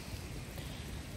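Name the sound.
rain falling on a mountain hiking trail in Hawaii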